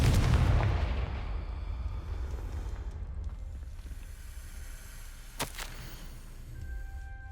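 The Confringo spell in Hogwarts Legacy goes off as a loud, booming blast that rolls away into a fading rumble, followed later by a sharp crack and a few faint ringing tones.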